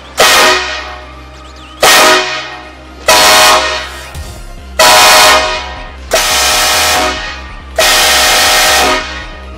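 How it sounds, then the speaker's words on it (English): Train horns mounted on a tow truck blast six times in a row, each long, loud and very close, with brief gaps between the blasts. "the moment we've been waiting for, testing of the realtrainhorns.net"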